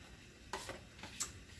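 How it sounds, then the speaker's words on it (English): A utensil scraping seasoning out of a bowl into a pot of collards for Creole black beans and rice, a few brief sharp scrapes and clinks over a low background. "So let's try to get this scraped out"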